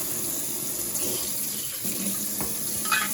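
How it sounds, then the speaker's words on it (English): Kitchen faucet runs steadily as a tuna can is rinsed under it, a continuous close splashing wash with a few brief clinks from the can. "I'll just rinse this out, because I don't want the trash can to smell like tuna"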